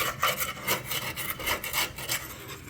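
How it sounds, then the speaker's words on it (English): A tool scraping grass residue off the underside of a Toro zero turn mower part, close and fairly loud, in repeated rhythmic rasping strokes with no talking. "I'm basically just scraping that."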